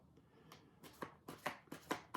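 Tarot cards shuffled by hand, a quiet run of soft papery riffles and slaps coming in uneven bursts that grow a little louder and quicken toward the end, close up with no talking.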